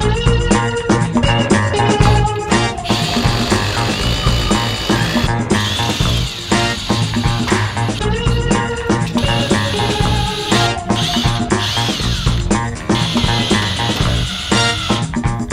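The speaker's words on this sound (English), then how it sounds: "Okay, so you got to see the drill in action." A Bosch GSB 18V brushless cordless drill runs loud and close, its steady motor whine continuing for about fifteen seconds with small shifts in pitch and no talking.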